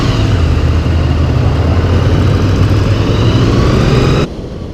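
A V4 motorcycle of about 800cc roars loudly and steadily as it speeds off, a sustained engine drone that cuts out abruptly near the end.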